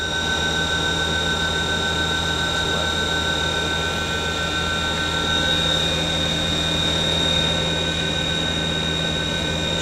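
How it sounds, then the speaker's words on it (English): The spindle of a Haas VF-5D/40 vertical machining center spins at high RPM, giving a steady, continuous high whine with tonal hum that holds evenly throughout. "Spindle's runs very nice, smooth."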